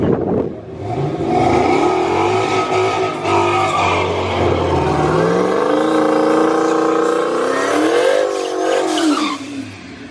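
A drag racing car makes a pass down the strip at Amarillo Dragway on a night of racing, engine roaring and revving hard through rising gear sweeps, loud and close, with a brief tire chirp, no talking.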